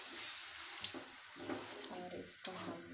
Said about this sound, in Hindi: और इसमें मैं थोड़ा सा पानी शामिल करूँगी